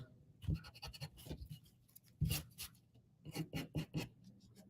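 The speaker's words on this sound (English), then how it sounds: "I'm gonna erase these lines so that our bubble letters can connect" A pencil eraser scrubs over paper in short, close, dry bursts of rubbing, coming in quick uneven clusters with small pauses between.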